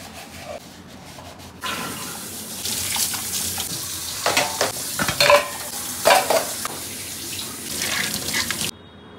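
Dishes being washed under a running kitchen tap, with a steady water rush, clinking utensils and scrubbing clatter at close range, loud and continuous with no talking.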